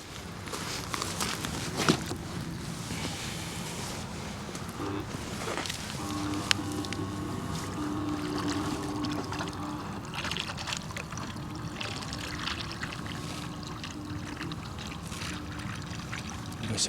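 A cheap RC carp-fishing bait boat from AliExpress runs on open water with a faint, continuous watery wash and a thin motor whine rising in the latter half, heard quietly against outdoor ambience.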